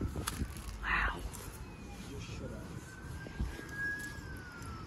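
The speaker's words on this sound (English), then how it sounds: "there's a siren in the background" A distant siren wails faintly in the background, one long rising and falling tone under outdoor ambience, faint voices and a brief nearby noise.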